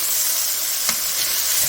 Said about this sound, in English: fry up you some bacon any way you like